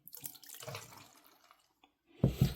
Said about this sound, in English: Just going to pour the water out.